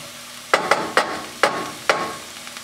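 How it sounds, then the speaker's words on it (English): Diced purple onion sautés in a frying pan, heard as five sharp scraping spatula strokes at irregular intervals over a faint, quiet sizzle. "I have one purple onion that I diced and I'll saute in my frying pan"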